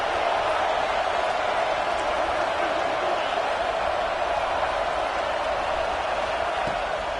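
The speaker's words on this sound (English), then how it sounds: "Big third down as the crowd gets behind this defense." A stadium crowd in the college football video game NCAA 26 roars in a steady, dense wash of cheering through a third-down play, with commentary faintly underneath.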